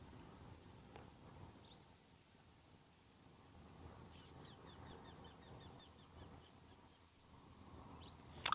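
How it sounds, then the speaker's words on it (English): An olive woodpecker calls outdoors in the wild, giving a quick series of around eight faint, evenly spaced high notes over a soft, hissy ambient background, distant and with no voices. "Oh, I just heard an olive woodpecker calling."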